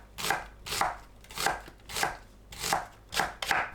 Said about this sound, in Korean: 양파를 가늘게 썰어줍니다.